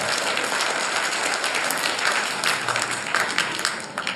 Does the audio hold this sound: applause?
yes